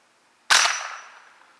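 A single sharp gunshot from a CMMG Bravo .22 LR rifle emptying a magazine, a close loud crack that decays over about a second, with no talk.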